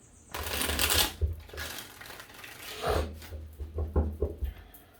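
A deck of cards is shuffled twice, each a quick riffling burst followed by softer fluttering and tapping as the cards settle, close up.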